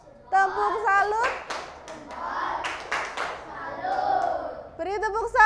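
Schoolchildren in a classroom perform a 'tepuk salut' clapping cheer for a presenting group, with rhythmic bursts of claps mixed with their chanted voices, opening and closing with a lone adult voice.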